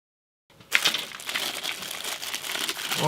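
Plastic bag holding zip ties for a Friedl MAM 23-200 fiber optic closure crinkles and crackles as it is handled, starting abruptly after a brief silence and continuing steadily and close.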